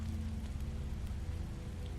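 Steady rain pours down in The Wolf Among Us, a dense continuous hiss of drops on surfaces with a low rumbling undertone, unbroken and without voices.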